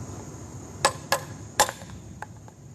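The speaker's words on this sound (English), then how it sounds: "See, if I use that little light hammer, I can't really get no meat out of it." Three sharp metallic taps of a light hammer chipping masonry stone, a couple of fainter strikes following, over a quiet background.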